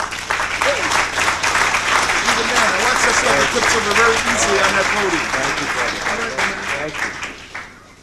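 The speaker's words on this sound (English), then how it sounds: "I would like to have you give a warm welcome, a rousing applause to Dr. Len Horowitz." Sustained audience applause welcomes a speaker to the podium at a lecture, with clapping rolling steadily while voices chatter and call out over it, fading near the end.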